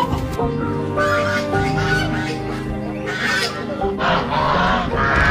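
Geese honking loudly and close by, several overlapping harsh calls repeating continuously for the whole stretch.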